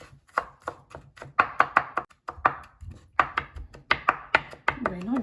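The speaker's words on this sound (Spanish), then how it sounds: "El ajo lo voy a picar bien picadito." A knife finely chops garlic on a board, close and crisp, with about thirty quick, fairly even strokes in bursts, then a brief voiced sound at the very end.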